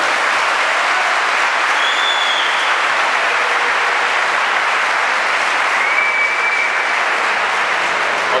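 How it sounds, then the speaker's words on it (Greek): A crowd at a charity basketball game for veteran players claps in a loud, steady, unbroken wave of applause across the whole stretch, with a couple of faint whistles above it. "αλλά και ένα χειροκρότημα τώρα"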